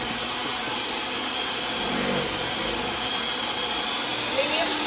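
Electric hand mixer creaming softened butter at medium speed, a steady loud whirring drone that runs unbroken throughout, with no pauses or speed changes.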